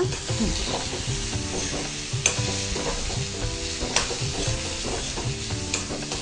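Sesame seeds, about a spoonful, stir-roasted in a pan for a padval (snake gourd) chutney, giving steady close scraping and light crackle with sharp spoon clicks against the pan, no voices.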